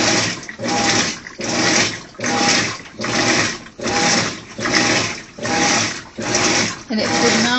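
A Maytag Bravos washing machine agitates through its cycle, giving a steady run of about ten rhythmic swishing water surges, each roughly half a second long, loud and close with no talking.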